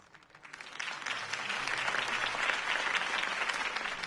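Crowd applause after a mayoral campaign speech, swelling from a thin start into steady, dense clapping across a large audience that sustains for several seconds without talk.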